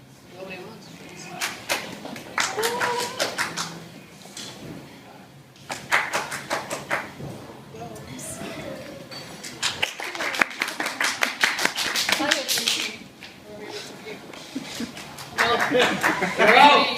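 Audience at a comedy improv show in a bowling alley votes with bursts of clapping, several separate rounds of applause broken by pauses, with talking and laughter between them.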